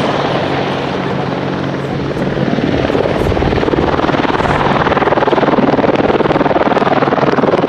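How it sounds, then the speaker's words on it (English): Loud Apache helicopter hovering nearby, a continuous rotor thrum and turbine whine that grows slightly stronger after a couple of seconds. "As you watch the Apache move from right to left, you can see the helicopter's amazing hover performance"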